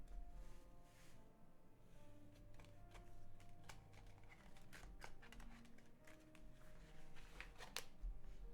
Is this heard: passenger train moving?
no